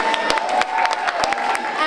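A school audience applauds after a performance, with dense, sustained clapping and some cheering from a crowd in a hall, loud and continuous, and a voice speaking over it.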